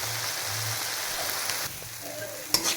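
A spice masala fries in oil with salt and turmeric, giving a steady, close crackling sizzle with a low hum underneath and a brief clatter near the end.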